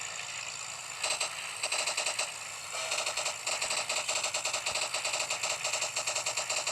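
Rapid machine-gun fire from a fighter plane in an aerial dogfight video game, sounding as steady clattering bursts that start and stop over a constant engine drone, with no talking.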